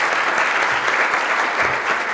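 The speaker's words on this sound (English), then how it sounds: "I was waiting for the applause for Martin" Audience applause at a technical workshop, a brief burst of steady clapping from a seated crowd that stays level and fairly close throughout.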